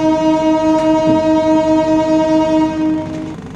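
The KA Singasari passenger train sounds a long, loud, steady horn blast while departing Bumiayu station in Brebes at night, then the horn cuts off and the rumble of the train carries on.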